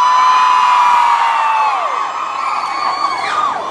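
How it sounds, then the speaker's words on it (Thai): A loud crowd screams and cheers in one sustained, high-pitched roar that slowly wavers and dips before rising again. "ใครคิดว่าตัวเองยังสาวยังหนุ่มขอเสียงกรี๊ดดังๆได้ไหมครับ"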